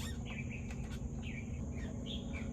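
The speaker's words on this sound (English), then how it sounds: "Birds are chirping." Birds chirp outdoors in a quiet neighborhood on a cool fall day, with faint, scattered high calls over a steady low background hum.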